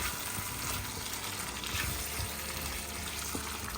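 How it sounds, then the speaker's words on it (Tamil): Cooked beef stirred into fried onions in a pan, a soft steady sizzle with faint scraping from stirring, low and continuous with no talking. "வேக வச்ச பீஃபை இதில் சேர்த்துட்டு நம்ம அழகாக எல்லாத்தையும் கலந்து விட்டுக்கலாம்."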